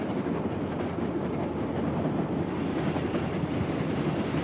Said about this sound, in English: The train backs around the mountain, then switches again to climb higher.